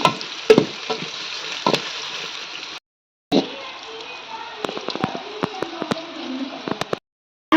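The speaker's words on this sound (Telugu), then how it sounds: "ఆనియన్స్ బాగా వేయించుకున్నాం ఫ్రెండ్స్, ఫ్రైడ్ ఆనియన్స్ కోసం" Onions frying for mutton haleem over a wood fire, a steady broadband sizzle with scattered crackles and pops, briefly cut out twice, with faint speech-like sounds in the background.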